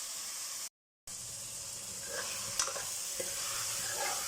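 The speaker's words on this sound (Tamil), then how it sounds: "தக்காளி வதங்கட்டும்." Tomatoes sautéing in a pan for marriage-style kalyana sambar give a steady frying sizzle with light stirring scrapes, after a brief moment of silence near the start.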